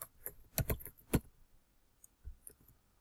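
Someone types a comment on a computer keyboard, producing a few scattered, sharp key clicks with a short cluster near the start, fairly close and quiet, with no talking.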